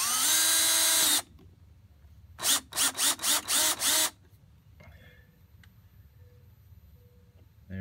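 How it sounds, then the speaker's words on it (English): A power drill drives a screw back into an electric lawnmower during a rectifier repair, with one long whirring run and then five short, loud bursts close by, followed by quiet handling. "And screw this back down."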